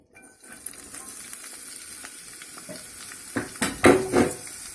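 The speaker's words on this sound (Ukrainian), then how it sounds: "Ложу сюди квасолю спаржеву і буду жарити, помішуючи" Green beans fry in a hot pan with a steady sizzle, then louder scraping and clattering as they are stirred toward the end.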